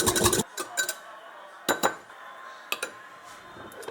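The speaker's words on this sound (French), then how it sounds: "Et on mélange." Spoon or whisk clinking against a bowl while mixing a creamy homemade kefir vinaigrette, a few short separate clatters and taps at close range with quiet pauses between.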